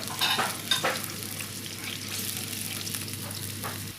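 Tofu skin in a tangy, spicy sauce bubbling in a pan, with a couple of scraping stirs near the start, then a steady soft hiss of simmering and sizzling throughout.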